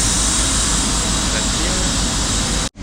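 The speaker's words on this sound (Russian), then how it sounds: "Вот он наш красавчик стоит, Boeing 3 семерочки." A Boeing 777 airliner at the airport gives off a steady, loud, broadband engine roar that fills the whole stretch before cutting off abruptly at the end.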